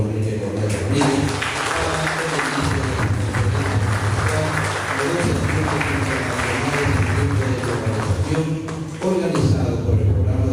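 A conference audience at a university lecture on international business gives sustained applause, a dense, even wash of many hands clapping that fills the whole stretch, with voices murmuring underneath.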